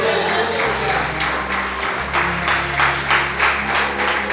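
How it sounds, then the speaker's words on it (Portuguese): A church congregation applauds during an evening service: a steady, dense wash of clapping that swells in rhythmic surges, with a low sustained tone underneath and no speech. "pode aplaudir o nome do Senhor nesta noite"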